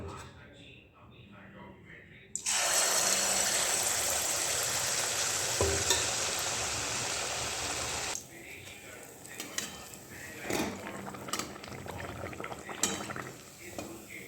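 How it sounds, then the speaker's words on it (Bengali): Dhuska batter hits hot oil and erupts into a loud, dense sizzle that holds steady for several seconds, then drops to quieter bubbling with stirring and handling noises, while a person talks. "দেখো দেখো আবার ব্যাটার দিচ্ছি।"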